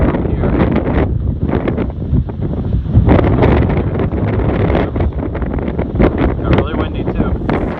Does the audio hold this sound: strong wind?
yes